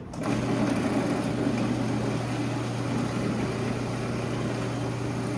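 A blender starts and runs steadily as it purees lemon juice and chopped parsley in a chef's demonstration, giving a loud, even, continuous motor whir up close.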